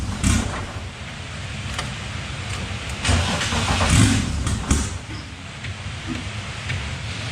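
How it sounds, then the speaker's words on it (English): A BMW engine idles on E85 fuel after an MS42 to MS43 engine computer swap. The idle is rough and uneven, with loud surges and dips and some clunks nearby. "this is how it idled before with E85"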